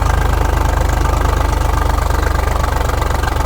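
A tractor diesel engine, one of New Holland, John Deere or similar models, runs steadily at close range with a rapid, even knocking throb that does not let up.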